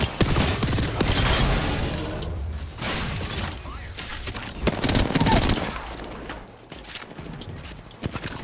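Rapid bursts of automatic gunfire in the battle royale game Apex Legends, loud and close, with sharp impacts and clatter, continuing under steady voices calling out targets throughout.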